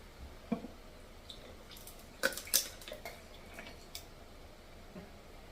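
Ice cubes are dropped into a glass quart jar for homemade strawberry lemonade, giving a few quiet, sharp clinks and knocks, with a small cluster in the middle and no talk.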